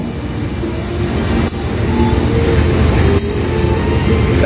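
A Joglo Semarang-bound passenger train rolling into track 3 from the west at Kroya station, a loud continuous low rumble of wheels and engine with a couple of brief clanks.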